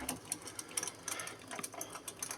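A homemade record turntable driven by a secondhand electric fan motor through a belt cut from a motorcycle inner tube, giving a fast, rhythmic mechanical clicking and whirring close by, with no speech.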